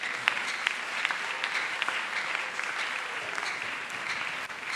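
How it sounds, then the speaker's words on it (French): A church congregation applauds, a steady patter of many hands clapping with a few sharper claps standing out, heard from within the room at moderate level. "Acclame pour ta bénédiction aussi."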